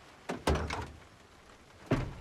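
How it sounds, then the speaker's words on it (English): Three dull wooden knocks on a door in a video game, two close together and then a third after a pause, sounding near and fairly sharp against a quiet background. "Who's knocking on my door?"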